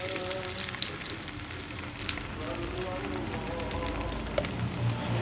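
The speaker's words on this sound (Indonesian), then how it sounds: "Kita tumis bumbu sampai matang." Ground spice paste sautéing in a pan for a mild home-cooked bento dish, a steady soft sizzle running throughout at moderate level with a low background hum.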